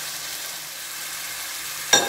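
Food roasting in a pan for a spiced cabbage dish gives a steady, soft sizzle and crackle throughout, ending with a brief louder clatter near the close.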